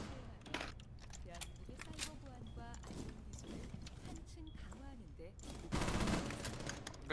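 MX4 submachine gun firing in Rainbow Six Siege, heard as scattered bursts of rapid shots amid game noise and talking, with a louder, denser stretch of fire near the end.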